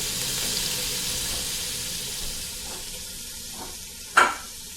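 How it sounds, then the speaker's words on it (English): Bacon sizzles and crackles steadily in a hot pot over medium-high heat, a constant close frying hiss with a brief louder spatter near the end and no talking. "Listen to that sizzle."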